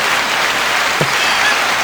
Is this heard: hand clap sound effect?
yes